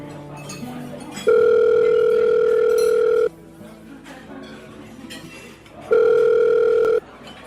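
A telephone call being placed: two long steady ringback tones, the first about two seconds, the second about one second after a pause, loud and clear with faint room noise between.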